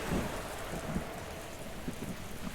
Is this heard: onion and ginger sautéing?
no